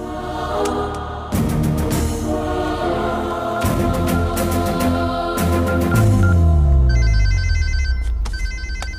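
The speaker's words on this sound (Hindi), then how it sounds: "ये इस वक्त क्यों फोन कर रहा है?" A telephone rings during a tense Hindi-dubbed action film scene, repeated electronic ring bursts cutting through a loud dramatic musical score with heavy percussive hits and swelling tones.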